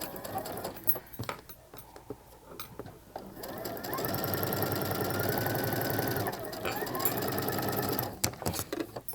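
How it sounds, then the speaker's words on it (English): Sewing machine stitching quilt pieces, starting with a few short bursts, then running in a long steady whir before stopping and resuming briefly, close up with faint handling noises around it. "And I start sewing from this side."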